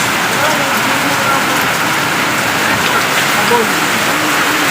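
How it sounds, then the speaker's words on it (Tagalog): Heavy rain pours down in a continuous dense hiss and patter of drops striking surfaces, loud and close throughout with no pauses. "Lakas ng ulan guys."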